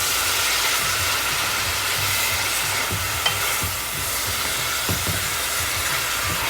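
A garlic and bok choy stir-fry is stirred in a hot pan, with steady close sizzling and hissing broken by a few soft scraping strokes of the utensil.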